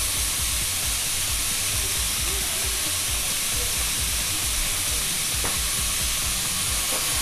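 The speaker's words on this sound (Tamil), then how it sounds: "வெங்காயம் நல்லா வதங்கிடுச்சு" Onions and curry leaves sauté in a hot pan with a steady, dense sizzle and hiss that stays loud and close throughout, with no talking.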